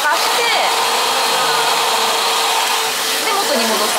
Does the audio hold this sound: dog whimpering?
no